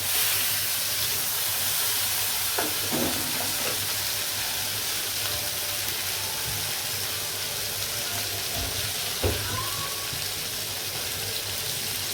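Small rui fish sizzles on a barbecue grill just after being flipped, giving a steady close hiss of frying with light scraping and occasional clicks, no voices.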